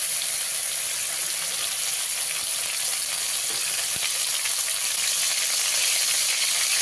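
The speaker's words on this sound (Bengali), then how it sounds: "দেখুন কথা বলতে বলতে চিংড়ি মাছটা ভাজা হয়ে গেছে।" Shrimp fry in hot oil with a loud, continuous hissing sizzle that holds steady throughout. No one speaks.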